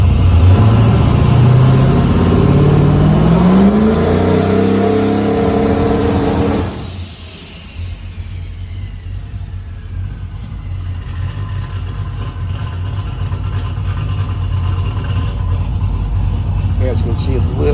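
An engine revs hard during a turbo spool test, its pitch climbing loudly for several seconds before cutting off abruptly and dropping to a lower, rougher idle that continues to the end.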